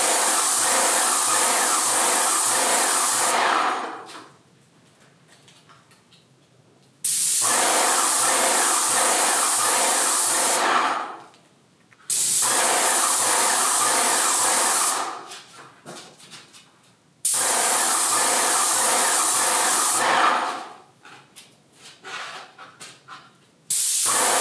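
A paint spray gun sprays an entry door in four long bursts of loud, broad hissing, each lasting a few seconds and separated by quieter pauses with faint background noise.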